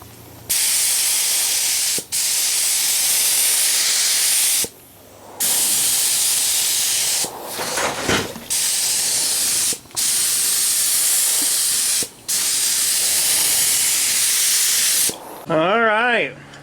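A spray gun lays a 4-to-1 mixed clear coat onto a Jeep Wrangler TJ hood in long, steady hissing passes, each broken by a short pause before the next, close up and without speech.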